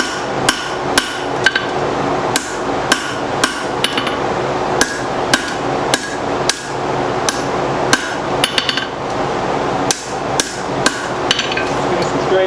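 Hot steel being hammered on an anvil to taper a forged double hook, with sharp, loud metallic strikes landing in an irregular rhythm of single and paired blows, heard alone with no talk.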